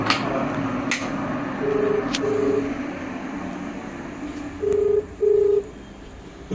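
Outgoing phone call tones: two pairs of short, steady electronic beeps, one pair near the middle and a louder pair near the end, over a quiet indoor background with no talking.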